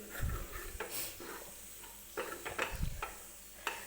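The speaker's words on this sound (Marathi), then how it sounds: "डाळ वाटलेली जी आहे ती बारीक करून छान अशी व्यवस्थित तुपामध्ये भाजून घ्यायची आहे" Ground moong dal roasting in ghee in a large kadhai, with soft scraping stirs and a faint sizzle, intermittent spoon knocks against the pan, quiet and close.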